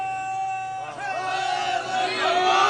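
Large crowd at an outdoor religious gathering shouting a slogan response in unison, a sustained roar of many voices rising and swelling over nearly three seconds, with a steady low hum underneath.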